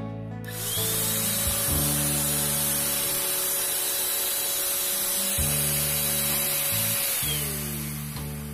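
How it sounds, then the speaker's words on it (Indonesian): A vacuum cleaner run in reverse as a blower in a furniture workshop, switched on after a brief silence and then holding a steady, loud mechanical whine and rushing air, close by, with no talking. "Kalau di sini dia akan menarik, memvakum, cuman di sini saya pakai untuk meniup."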